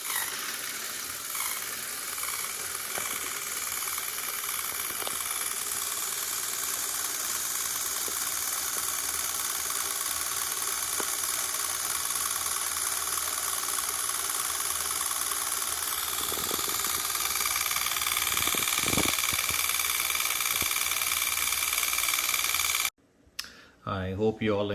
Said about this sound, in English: I have just added the motor here, and let me just show you this in motion